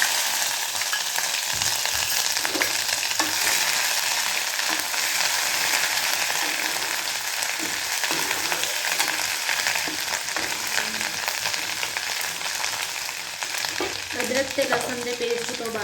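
Cumin seeds and ginger-garlic paste fry in hot oil in a pan for Punjabi-style rajma, giving a loud, continuous sizzle close up, with occasional scrapes of stirring.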